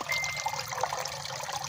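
A small backyard pond waterfall trickles and splashes steadily, a soft continuous burble of running water heard close up for under two seconds.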